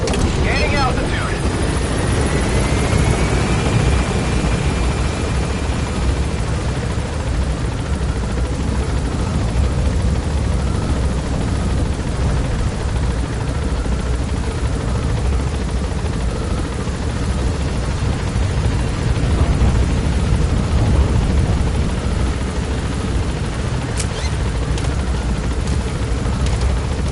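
A helicopter in the Metal Gear Solid 5 video game climbs with a steady, loud rotor drone throughout, a constant whirring thrum with a faint whine early on.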